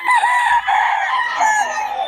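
A rooster at a market crows loudly and close, one long strained call filling the moment, with little else audible around it.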